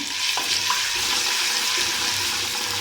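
Steady, loud sizzling of garlic ginger paste frying in hot oil, a constant crackling hiss with a couple of faint clinks and no voices.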